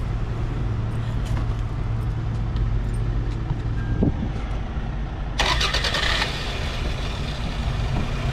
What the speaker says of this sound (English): how it sounds when you have a very sucky slow cranking starting battery